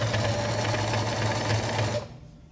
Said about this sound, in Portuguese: Arrumo com o dedo e volto a costurar.